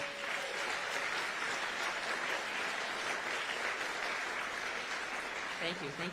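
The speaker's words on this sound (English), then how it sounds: "give them a huge round of applause" An audience gives a sustained round of applause at a high school band spring concert, a steady wash of clapping with a brief voice or tone surfacing near the end.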